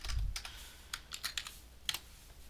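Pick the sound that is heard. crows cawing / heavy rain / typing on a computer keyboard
typing on a computer keyboard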